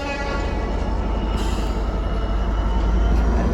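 Passenger train departing Crewe station on the West Coast Main Line for Liverpool Lime Street, a steady low rumble of engines and rolling wheels close by, heard alone.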